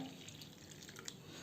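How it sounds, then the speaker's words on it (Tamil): A cup of water poured into ground rice-and-lentil batter for medu vada, a soft continuous trickle and splash, quiet and close with no talking. "1 கப்பு மாவுக்கு 1 கப்பு தண்ணி விடுறோங்க."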